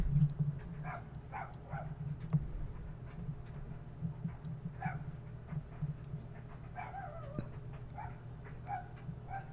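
Dogs bark, yip and whimper in the background, fairly faint and scattered across the stretch, with short irregular bursts over a steady low hum.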